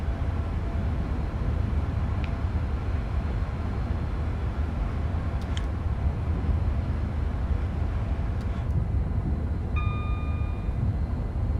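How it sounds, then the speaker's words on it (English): A train in Train Sim World 5 runs at speed, giving a continuous low rumble from a moving passenger train. A brief high tonal hoot sounds near the end. "Seems quite a nice train."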